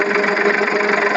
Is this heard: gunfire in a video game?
no